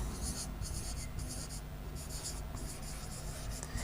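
Marker or chalk writing on a board, continuous scratchy strokes in short bursts with brief gaps, close over a steady hum of room noise.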